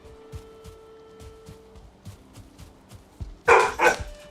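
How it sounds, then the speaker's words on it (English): Dog barks in a hardcore Minecraft world, a couple of loud, close yaps near the end after a stretch of quiet footsteps and game ambience. "Dog bark."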